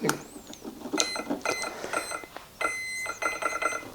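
Electronic beeps from an ESC checker during a bench test of an RC jet motor, a series of short, bright tonal chirps in irregular clusters with some quiet background clatter.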